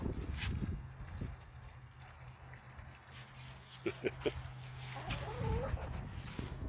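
Backyard chickens cluck and murmur in a few soft, scattered calls, with rustling and low rumbling noise around them.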